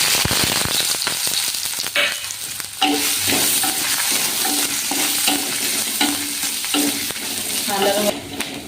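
Coconut pieces fry in two teaspoons of coconut oil in a pan for a prawn roast, giving a steady loud sizzle broken by scraping stirs and clicks of a spoon throughout, with no talking.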